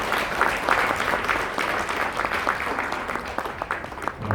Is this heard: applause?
yes